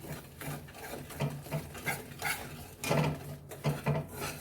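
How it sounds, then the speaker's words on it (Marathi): Gram flour (besan) with asafoetida, cumin and carom seeds being stirred and roasted in oil in a pan, a soft rasping, scraping texture with repeated rhythmic strokes, close and fairly quiet, no talking. "हे बेसन असं छान पकवून घ्यायचं, याला शिजवून घ्यायचं"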